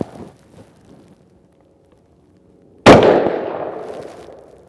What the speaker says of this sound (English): Here we go, 10 rounds to the 16 inch barrel now.